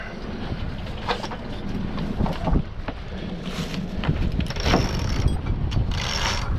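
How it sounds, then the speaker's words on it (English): On a sailboat, the Genoa sheet line is hauled in by hand, with squeaks and rubbing of rope through blocks amid gusty wind noise and boat creaks. "I pull the Genoa sheet with my left hand while keeping tension on the falling line with my right hand."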